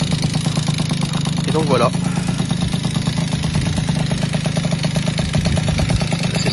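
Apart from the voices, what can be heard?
moped engine started with starter and idling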